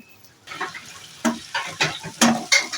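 Tomatoes and spices cooking together in a pan for chicken dopiaza, a soft sizzle broken by a series of stirring scrapes that come in regular bursts roughly every half second, close and moderately loud, with no talking.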